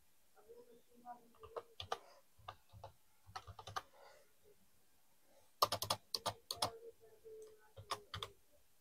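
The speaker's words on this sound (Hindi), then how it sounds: "अब हम यहाँ पे कोर्स टाइप कर" Keys clack on a computer keyboard while text is entered into an MS Word document, quiet, close, irregular taps in small clusters with short pauses and a louder flurry near the end.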